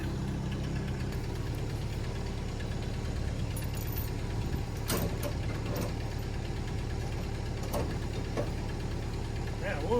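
A 1984 GMC square body truck engine idles with a steady low rumble and slight knocking rhythm, nearby and continuous, while a few sharp clicks and clatters cut in over it.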